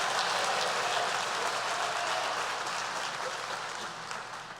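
A church congregation claps for the Lord in a steady, even wash of applause that slowly fades over a few seconds, heard from a distance with no clear voices.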